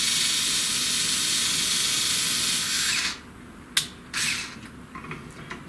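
A power screwdriver runs bolts onto their threads while assembling a SainSMART Genmitsu PROVerXL 6050 Plus CNC router kit: a steady whirring drone that stops, followed by a few clicks and a brief second whir, close up.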